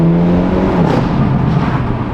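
A Hyundai Elantra N with added tuning drives with its engine humming loudly and steadily, the tone sliding slightly lower partway through, close up and with no voices.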